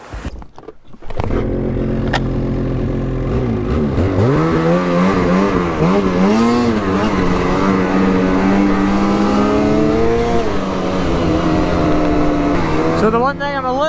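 On its first ride, a lightweight Ski-Doo snowmobile build with a 175 engine fires up after a second and runs loud and close. Its revs swell and dip continuously, and voices come in now and then.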